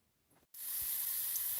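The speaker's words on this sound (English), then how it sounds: "the carrots are just happily sizzling away here" Carrots sizzling in a hot pan while vegetables for an asparagus dinner are prepared, a steady bright hiss that starts abruptly after a brief quiet moment and continues evenly up close.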